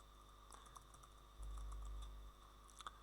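Typing a terminal command on a computer keyboard under Ubuntu 20.04: a short run of soft, close key taps at an uneven pace, ending with a couple of sharper strokes, with a steady low hum beneath and no talking.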